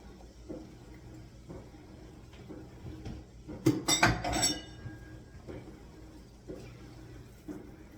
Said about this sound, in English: I'm going to let those saute a little bit. I'm going to put the mushrooms in now.